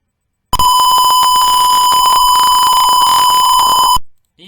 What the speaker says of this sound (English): when there's an object within 20 cm in the sensor, the buzzer will turn on